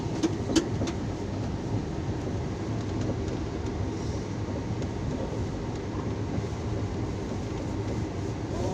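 Continuous low rumble of a train in motion, steady and even throughout, with a few faint clicks near the start.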